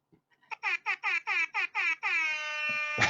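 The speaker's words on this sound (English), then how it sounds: "if you guys want to hear a little bit more of an air horn next time" An air horn gives a quick run of short, evenly spaced blasts followed by one long sustained honk, loud and close, with a thump at the end.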